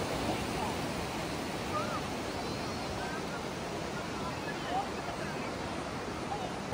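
Ocean surf at high tide on Radha Nagar Beach, Havelock Island, a soft continuous wash of waves, faint and steady, with people talking at moments.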